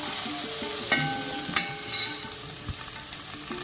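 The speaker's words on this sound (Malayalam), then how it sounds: "3 സവാള കൂടി നമ്മൾ 2 പച്ചമുളക് ചേർത്ത് വഴറ്റിയെടുക്കുകയാണ്" Sliced onions and green chillies sauté in a pan with a steady, close broadband sizzle, a few sharp clinks of a spoon against the pan breaking through the continuous frying hiss.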